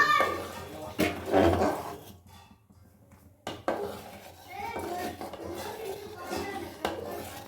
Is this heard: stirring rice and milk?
yes